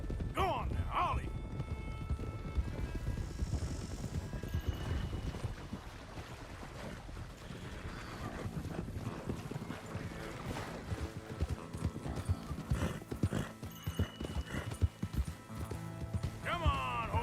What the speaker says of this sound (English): Come on, horses! Now run!